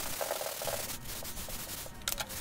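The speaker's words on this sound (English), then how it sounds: "I made these quick sanding blocks, and I worked through the 150 and 180 and 220 grit." Wooden bath tray parts are hand sanded with homemade sanding blocks through 150, 180 and 220 grit paper, giving a steady scratchy rubbing in quick back-and-forth strokes, close and alone.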